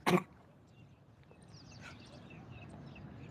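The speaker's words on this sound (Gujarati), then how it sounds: "આ ગાંડાને ઉધરસ થઈ ગઈ છે" One short, sharp cough bursts out right at the start, then fades to a quiet background with faint rustling.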